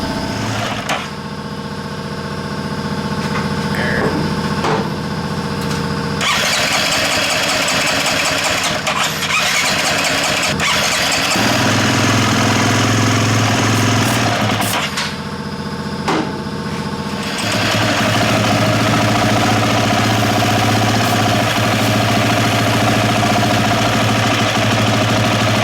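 A dirt bike engine with a fuel injection problem runs on brake cleaner, sputtering to life and revving loud and near, dropping out briefly a couple of times before catching again, with no talk.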